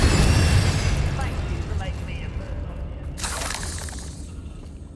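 A Confringo spell explosion in the video game Hogwarts Legacy, a loud blast up front that decays into rumbling, followed by a bright shattering crackle, with a voice heard over it.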